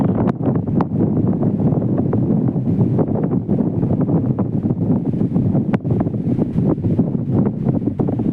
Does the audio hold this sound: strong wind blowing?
yes